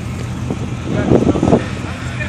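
An LS V8 car engine fires up and runs in a parking lot, with a rough, rising rumble peaking briefly midway over steady wind noise; people talk nearby.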